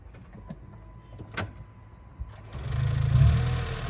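A Honda CR-Z with a very low battery starts on its generator: after a few clicks and a short whir, the engine catches and settles into a steady, fairly loud idle.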